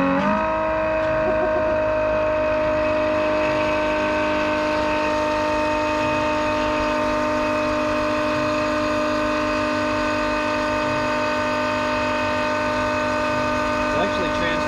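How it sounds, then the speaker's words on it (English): A Milwaukee M18 2771-20 cordless transfer pump moves oil between containers, its motor whining steadily and continuously at close range with a constant tone throughout, and no talking. "Let's see if it's going to pull the oil and pump it in there."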